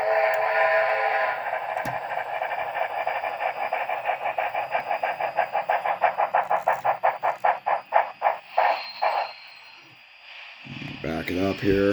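A Eureka Models AD60 model steam locomotive's whistle sounds long and steady over rhythmic chuffing pulses that grow sharper, then stop, followed by a brief burst of sound.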